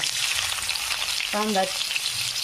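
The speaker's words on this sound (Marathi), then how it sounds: "कांद्याला फ्राय होऊ द्यायचं।" Onion frying in oil with cumin and mustard seeds, a close, bright crackling sizzle that runs throughout, with a short tonal squeak in the middle.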